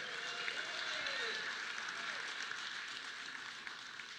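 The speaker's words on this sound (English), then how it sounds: "Give them a great big round of applause." An audience at a men's empowerment summit opening ceremony gives a round of applause, a steady wash of clapping at moderate level with a faint tonal whine sliding underneath.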